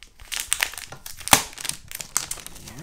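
Plastic packaging being pulled and crinkled off a Withings Body Cardio smart scale, close crackling rustles with one sharper snap partway through.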